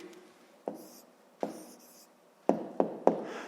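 A pen scratches out a math answer on paper, with five sharp taps at irregular intervals separated by faint scratching, close and quiet.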